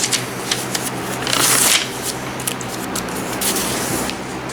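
Paper money bills riffled and flicked in quick succession, a dense papery fluttering close up with a louder burst partway through and no voices.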